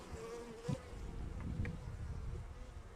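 A dense, steady buzzing of Carniolan honey bees fills the air as they are poured from a frame into a hive, loud and close with a constant drone and no voices.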